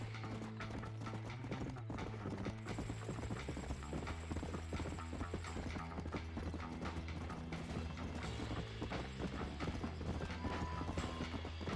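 Steady clip-clop of horse hooves galloping in Red Dead Redemption, mixed with mechanical clanking, at a constant level and without speech.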